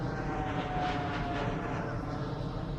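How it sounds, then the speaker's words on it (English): Military planes pass overhead during an intra-club T20 cricket match, producing a continuous, loud, broad engine drone that holds steady throughout. "the military planes overhead"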